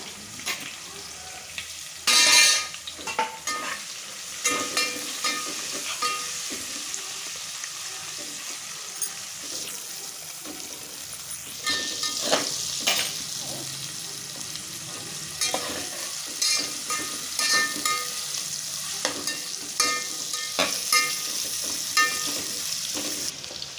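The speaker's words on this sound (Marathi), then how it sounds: "कांदा जरा परतून घेऊया" Chopped onion sautéing and being stirred in a pan while cooking green bean rice, a steady close sizzle broken by repeated scraping stirs, with no voices.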